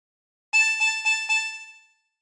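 A harmonica plays four draw notes on hole 6 of a meme phrase, evenly spaced repeated tones that start clean and fade out at the end, with no other sound behind them.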